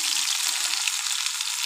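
Bottle gourd leaf paste sizzling and crackling steadily in hot oil, a dense, continuous fry noise close up with no one talking.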